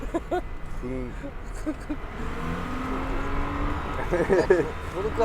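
A three-row minivan accelerates at full throttle on Tsukuba circuit, and a steady engine drone rises in pitch under in-car talking by the occupants.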